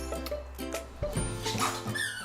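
A pet dog squeaks a squeaky toy over and over in short, uneven squeaks with faint yips mixed in, close by, beneath a steady background hum.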